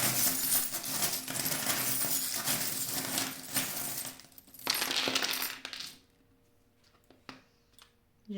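Small divination charms cast onto a surface for an August 2022 Aquarius reading, a dense rattling clatter of many little pieces that settles, then a few faint isolated clicks as the charms come to rest.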